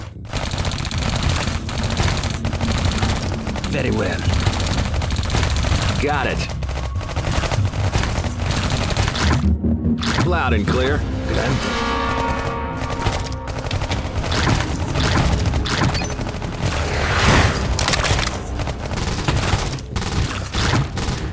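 Dense, continuous machine-gun fire and volleys of shots from the Iron Marines strategy game, loud and sustained with brief gaps, while short radio-style voice lines come through over the battle.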